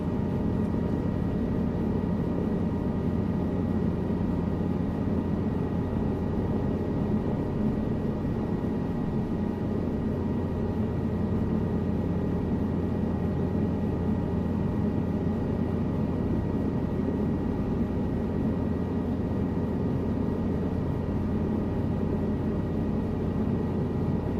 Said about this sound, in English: I don't know what the max speed of this helicopter is, but it can't be real fast.